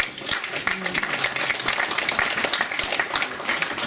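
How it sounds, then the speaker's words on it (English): Steady applause from a Burns Supper audience at an ice rink venue, a continuous dense patter of many hands clapping throughout with some voices mixed in. "I knew that would draw applause."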